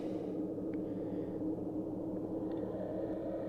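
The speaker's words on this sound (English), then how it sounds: "that's the sound of the engine you hear, changing gear" A steady low mechanical drone of a boat engine changing gear fills the clip, continuous and fairly loud, with faint higher clicks and no voices.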